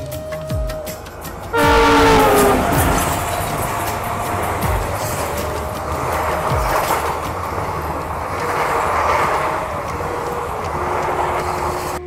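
Trains crossing during the Jammu Jodhpur Express journey from Suratgarh: a horn sounds in long blasts, then a passing train rumbles with steady clickety-clack wheel noise for several seconds.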